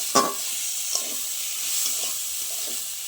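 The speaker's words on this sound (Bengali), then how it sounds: "এবার আমি পরিমাণ মতো জল দিয়ে দেবো।" Water is poured into rice frying in a pan with yogurt while cooking chal potol, bursting into a loud hiss that settles into a steady sizzle with faint stirring scrapes.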